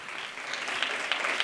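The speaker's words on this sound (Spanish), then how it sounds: "Un aplauso para todos ellos." Audience applause for the competing teams on a TV quiz show, a brief, soft wash of clapping heard at a distance, with no voices over it.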